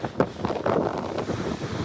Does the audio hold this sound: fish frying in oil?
no